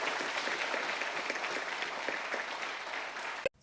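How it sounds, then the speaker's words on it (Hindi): Sustained applause from an audience at a talk on donation, dense steady clapping filling the space for several seconds and then cut off abruptly at the end. "एक बार फिर से वंदना जी के लिए बहुत सारी तालियां होनी चाहिए।"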